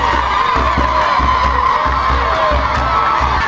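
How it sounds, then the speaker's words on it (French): A dense crowd cheers and shouts for the president of the Republic while waving giant photos and banners, a steady loud roar of voices with rhythmic chanting pulses. "Une foule qui brandit des photos géantes du président de la République, des banderoles aussi"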